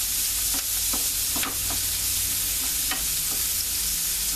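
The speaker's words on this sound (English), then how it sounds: "We're going to saute these up nicely. A little bit more olive oil." Vegetables sauté in olive oil in a pan for oxtail soup, a steady close sizzle throughout, punctuated by soft scrapes and taps as they are stirred.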